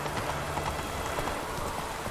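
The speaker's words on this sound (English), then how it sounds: "Witches have conjured rain." Steady rain falls throughout a Witcher 3 video game scene, a dense constant patter of drops on surfaces with no voices.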